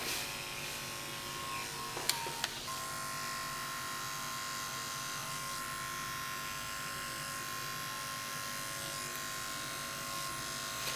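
Electric hair clippers run in a steady, close buzz while cutting a women's nape undercut, with a few small clicks early on and no talking.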